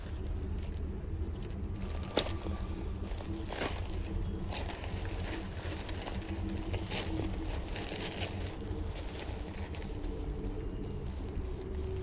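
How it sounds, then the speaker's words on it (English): Bubble wrap around motorcycle windscreen equipment being cut and pulled open, a steady close-up rustle of crinkling and crackling plastic with a few sharper snaps throughout. "I'm going to open this bubble wrap, which I think just put up as a safety for the equipment."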